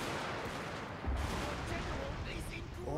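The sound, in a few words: musketeers firing a volley in Shogun 2, video game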